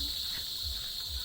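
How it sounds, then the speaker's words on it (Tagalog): Loud cicadas buzz in a steady, high-pitched drone near a beach in Casiguran, Aurora, a continuous shrill hum holding unbroken throughout. "Ay grabe, ang lakas ng kuliglig here."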